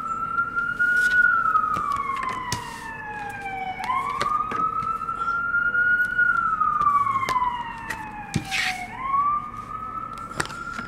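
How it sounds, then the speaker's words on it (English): Emergency vehicle sirens wail outside an open window, slow rising and falling sweeps repeating over several cycles, fairly loud, with other horns and street noise layered in the background. "That's a lot of sirens."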